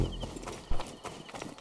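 A horse in Assassin's Creed Origins, quiet clip-clop hoofbeats with a soft whinny, close but low in level.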